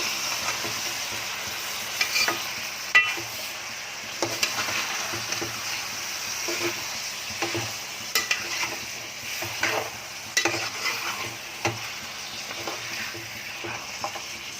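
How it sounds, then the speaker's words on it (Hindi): Pieces of mutton, 1.25 kg, frying with onions in a pot, a steady low sizzle punctuated by regular spatula scrapes and taps as the meat is turned, no talking. "गोश्त को मैंने 2 मिनट भुनी, बाद में भुना जाएगा मसाले में, मगर सिर्फ प्याज में थोड़ा भुनी।"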